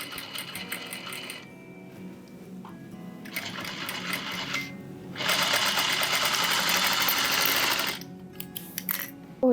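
A domestic sewing machine stitches dress side seams in several separate runs, starting and stopping with pauses between bursts, the longest and loudest run near the end, close and clear with no talking.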